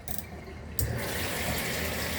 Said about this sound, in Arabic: نفتح ميه من هنا، ده الشلال